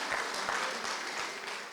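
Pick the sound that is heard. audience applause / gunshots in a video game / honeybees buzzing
audience applause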